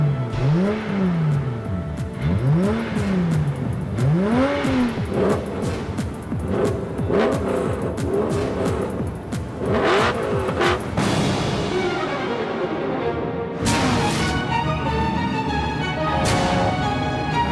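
Racing cars in a video game intro rev loudly with rising and falling engine sweeps, soon buried under a dense, continuous mix of music and effects that carries through to the end.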